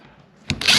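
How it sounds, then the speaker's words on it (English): A power drill briefly whirs up close, driving a screw into post frame building insulation. The short burst kicks in about halfway through after a quiet start. "I'm adding screws here and there."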